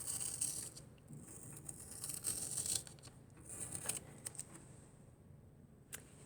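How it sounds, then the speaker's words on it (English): Faint, close scratchy tearing sounds as a metal ballpoint pen tip scrapes and rips through paper while making a printmaking plate, in uneven bursts with soft clicks. "you can hear the metal tip of the pen ripping through the paper."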